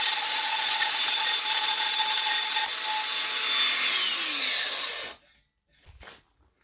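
Grinder working on an engine exhaust part, a loud continuous abrasive rasp lasting several seconds before cutting off, followed by a couple of faint handling knocks.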